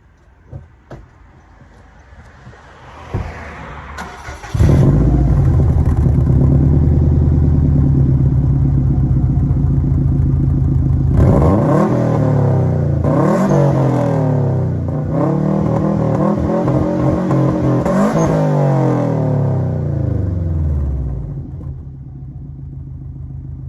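A Subaru hatchback fitted with a Cobra exhaust cranks over with a few clicks and catches, then idles loudly close by before being revved several times in rising and falling sweeps, settling back to idle.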